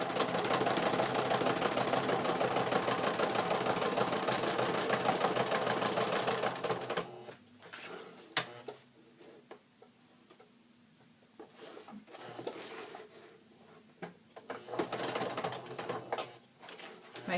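A sewing machine stitches back and forth over the sticking-out trimmed edges of a fabric pencil bag, running as a steady loud rapid whir for several seconds before stopping, then followed by faint scattered handling clicks and rustles.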